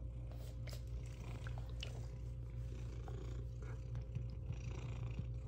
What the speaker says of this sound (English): Purring boy. Being a gooey kitty cat.